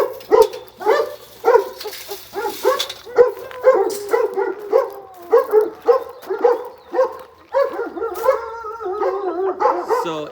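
Several dogs in humane society shelter runs bark, yip and howl continuously, loud and close, with overlapping excited barks throughout.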